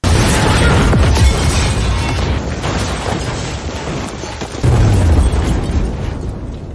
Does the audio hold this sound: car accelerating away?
no